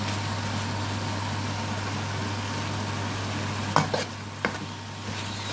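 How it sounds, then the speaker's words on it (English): Biryani sauce hitting a hot pan in a Bangladeshi chicken biryani preparation, a steady sizzle and frying hiss under a constant hum, with a few sharp clanks of a spoon stirring near the end. "We're going to add some biryani sauce now"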